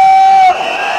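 A crowd at a political rally in Bafoussam cheers and acclaims Penda Ekoka, a loud sustained roar of voices with a shrill whistle-like tone in the first half.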